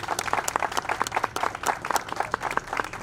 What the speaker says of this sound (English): if you would all join me in applause for Dan and Amber